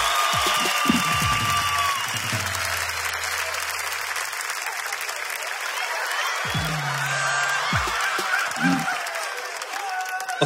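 An audience at a comedy show claps and cheers loudly and steadily throughout, while music with low tones plays beneath the crowd noise.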